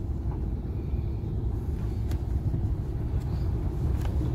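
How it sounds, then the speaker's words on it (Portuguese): Heavy truck traffic in an industrial district makes a constant low road rumble, loud and unbroken, with a few faint clicks and hisses over it. "É uma muvuca de caminhão esse horário aqui nessa."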